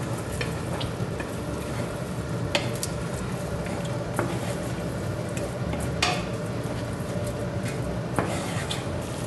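Meatballs fry in a pan with crushed natural tomato as they are stirred, giving a steady, close sizzle with soft scraping and a few sharper knocks spread through, and no voices.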